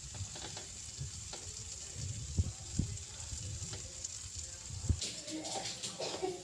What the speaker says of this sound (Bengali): এবার মশলা পেস্টটা আমি দিয়ে দিলাম।